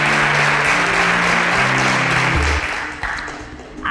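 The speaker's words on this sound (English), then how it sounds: "A round of applause for Kosiso as she exits" Audience applause breaks out for a contestant leaving the stage at an Interswitch SPAK competition show, a dense steady clatter of many hands held at full strength for most of the stretch, then thinning and dropping in level toward the end under low musical tones.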